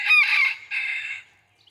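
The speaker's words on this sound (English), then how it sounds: "We hear you, Rooster." A rooster crows close by, one loud two-part call lasting just over a second and then fading into quiet.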